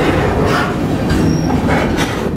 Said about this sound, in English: The train has just been going at this speed.